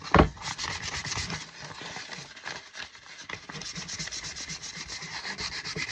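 Sandpaper rubs along a new hickory axe handle in close, continuous back-and-forth strokes, a dry scratchy rasp with a sharp scrape at the start.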